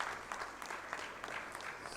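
An audience at a university orientation applauds with sustained, even clapping from many hands, heard faintly and at a distance.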